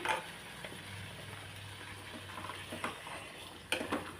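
Ground masala paste being stirred into a pot of double beans kurma: soft scraping and wet stirring of a spoon against the pan, with a few louder clinks near the end, fairly quiet and steady with no talking.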